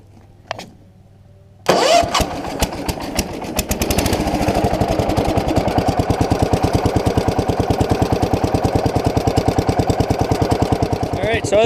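Near a few faint knocks, the Kohler engine of an Allis Chalmers 716H lawn tractor cranks and catches, then settles into a loud, rapid, evenly pulsing chug at idle.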